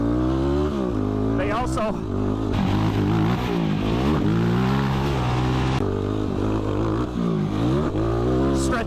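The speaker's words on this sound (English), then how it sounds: "Giving it some good acceleration." A vehicle accelerates hard across the desert on taller tires, its engine revving loudly up through rising pitch sweeps as it climbs through the gears, close and continuous, with someone speaking briefly over it.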